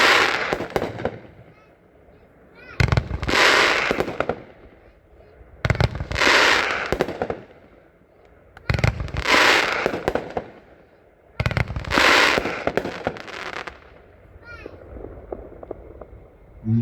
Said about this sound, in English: Next up is number 87, Triple Feature, 25 shots.